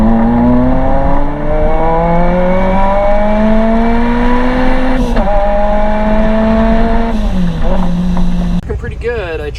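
A K-swapped Mini Cooper engine runs on nitrous, revving loudly and climbing steadily in pitch through the gears, then dropping sharply on shifts before falling away at the end.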